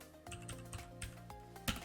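A few quiet clicks of keys being typed on a computer keyboard, irregular and close, with a soft background hum.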